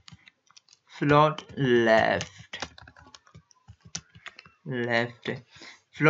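Code being typed on a computer keyboard, with quick irregular clicking key taps between stretches of someone talking.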